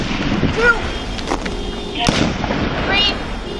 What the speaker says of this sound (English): Shots fired, shots fired. 3 shots.